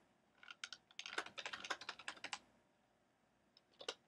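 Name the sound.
typing a heading on a computer keyboard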